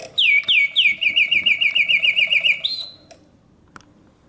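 A vintage Reuge double singing bird cage plays mechanical birdsong, a fast run of about a dozen bright, close, whistled chirps ending in a rising trill, then the bellows mechanism settles into quiet.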